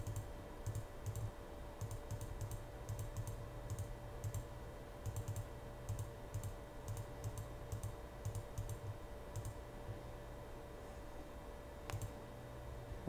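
Quiet, steady keypad or button clicks as a password is entered on a Hikvision NVR, irregular taps spread through the clip over a low constant hum, with no voices.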